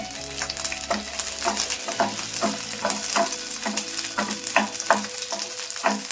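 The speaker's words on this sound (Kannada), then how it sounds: "ಇದನ್ನು ಸ್ವಲ್ಪ ಎಣ್ಣೆಲ್ಲ ಫ್ರೈ ಮಾಡ್ಕೊಳ್ಳೋಣ" Curry leaves, garlic and green chillies fry in oil for a curry leaf chutney, a steady close sizzle punctuated by regular spatula stirs and scrapes, with background music underneath.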